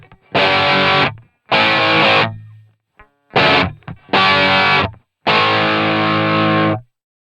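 An electric guitar with a distorted rock tone and two EQs engaged plays five loud, sustained chord hits, each ringing out briefly before stopping.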